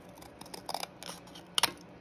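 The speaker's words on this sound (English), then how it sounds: "we are gonna cut a piece of cardboard" Scissors snipping through a piece of cardboard for a small doll craft, a few quick crisp cuts in close, quiet succession with no talk.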